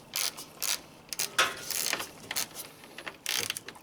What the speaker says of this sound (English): Now we'll just go ahead and snug them up with a wrench.